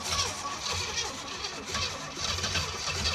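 A 1980 Pontiac Trans Am Turbo 4.9 V8 cranks with the throttle held about halfway open, then catches and runs with a rough, uneven idle, close up and steady, with faint voices in the background.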